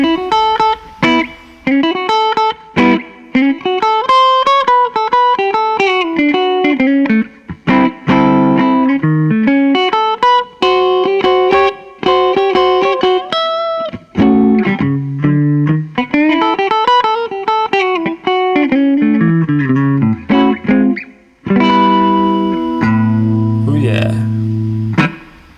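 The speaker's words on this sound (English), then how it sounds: "let's start the lick with the distortion on and turn it off" Overdriven electric guitar playing a fast melodic lick with distortion, then a cleaner, drier tone toward the end, loud and close.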